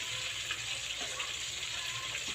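A steady, hissing bubble and sizzle of coconut milk stew simmering in a pan, continuous and moderately close, with no voices.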